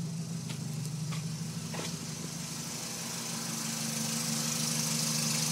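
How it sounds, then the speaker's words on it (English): Car engine idling with its exhaust note steady and close, a low continuous drone with light ticking from either the valvetrain or piston slap, no voices. "that's what the exhaust is sounding like."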